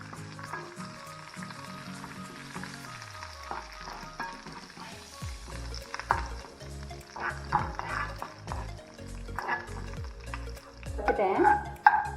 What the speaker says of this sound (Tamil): உளுந்து கொஞ்சம் நல்லா பொன்னிறமாக வறுக்கட்டும்.